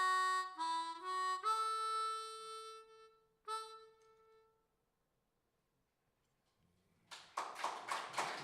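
Audience applause breaks out at a poetry and jazz night, a short burst of clapping rising at the end after a stretch of sung or played tones and then quiet.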